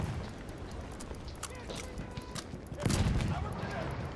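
Gunfire in the video game Battlefield 1, bursts of shots and rapid fire with a louder volley near the end, under quiet game noise.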